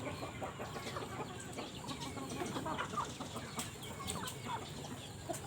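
Chickens cluck continuously in a busy chorus, with scattered short calls over a steady outdoor background.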